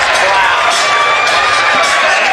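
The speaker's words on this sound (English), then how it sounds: "Crowd going absolutely crazy here, as expected." A wild, roaring crowd cheers and whoops nonstop at an MMA fight between Mitch Holder and Ryan Black, a loud, dense wall of voices with a commentator talking over it.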